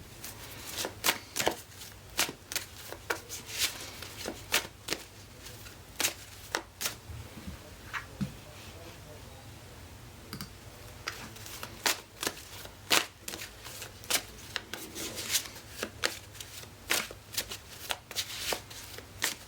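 Tarot cards are shuffled over and over, with crisp riffling flutters and sharp slaps as the deck is squared, arriving in irregular bursts up close against a quiet background.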